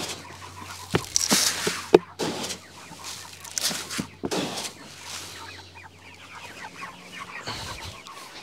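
Caged chickens on a farm cluck and squawk in scattered bursts, some fairly close and loud, over a steady low hum and occasional clatter.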